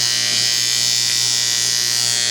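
An AC aluminum arc weld gives a steady, loud, buzzing hum with a harsh hiss over it, unbroken from start to finish and with no voices.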